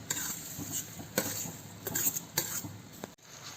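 A spoon scrapes and knocks in a pot of kootu curry with roasted ground coconut, giving repeated soft clinks and wet stirring sounds close by with a faint sizzle.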